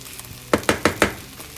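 Onions browning in a pan for a Kobe beef teriyaki burger sizzle softly, broken by four quick stirring scrapes in a row near the middle, with no talk.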